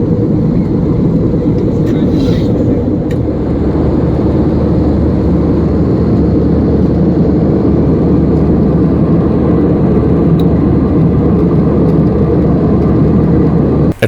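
A steady, loud, low roar fills an airliner cabin in flight on a seven-hour trip to Helsinki, Finland, droning unchanged throughout with only a few faint clicks.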